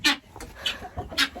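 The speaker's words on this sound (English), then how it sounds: "There's some chickens" Chickens in a chicken coop on a small ranch give a few short, close clucks and squawks, several separate calls over about a second and a half with quiet gaps between.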